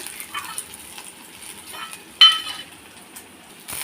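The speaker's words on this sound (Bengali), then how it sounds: "কালো জিরে শুকনো লঙ্কা একটা পেঁয়াজ দিয়ে দিলাম ভালো করে লাল লাল করে ভেজে নেব পেঁয়াজটা" Onion fries in oil with black cumin and dried chilli, a faint sizzle broken by a few close scrapes and clinks of a spoon against the pan.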